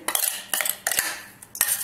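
Several sharp metallic clinks of a spoon scraping and tapping against a bowl while spooning in ground curry leaf, tomato and radish chutney, in irregular bursts, close by with quiet gaps between.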